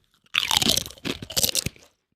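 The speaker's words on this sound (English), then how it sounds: "great crunch. Good crunch." A lime and cracked pepper flavoured snack bitten and chewed close to the mic: a sharp crunch followed by a second run of crisp crunching, then quiet.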